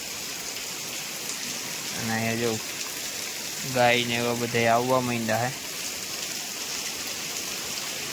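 Heavy rain pours down steadily as a constant broadband hiss, while a person speaks briefly over it in short bursts.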